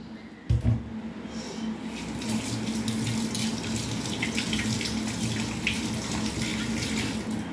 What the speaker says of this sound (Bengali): চলো মাছটা ধুয়ে নিই।